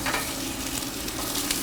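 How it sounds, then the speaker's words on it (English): Foie gras frying in a hot pan at a restaurant, giving a steady, close sizzle and crackle of fat with no pauses over a short stretch. "So this is when you just cook the foie gras, only thing you need just a hot pan."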